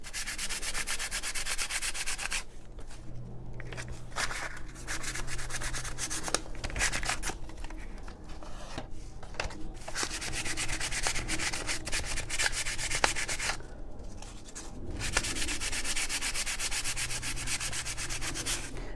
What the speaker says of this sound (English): Sometimes on a bigger piece, I will go through a couple pieces of sandpaper.